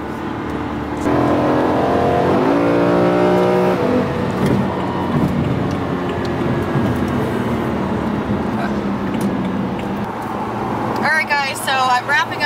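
A BMW E93 M3 convertible accelerates with its engine rising in pitch through a long pull, heard from inside with the top down, followed by quieter cruising and a voice speaking near the end.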